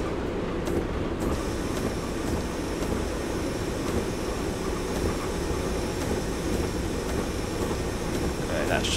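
A Class 121 Bubble Car diesel railcar in Train Simulator 2015 slows under braking, giving a steady, dense rumbling roar with a faint high whine that runs unbroken throughout.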